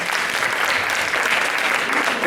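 A school audience at a primary-school debate applauds a team, with continuous dense clapping from many hands at a steady, fairly loud level.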